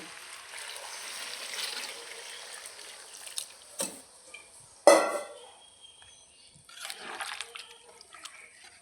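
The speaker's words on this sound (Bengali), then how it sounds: "এবার দিয়ে দেবো গরম জল" Hot water is poured into a pot of chicken curry with potatoes, making a soft splashing trickle with a sharper splash midway and faint clinks of a pan, quiet and close with no talking.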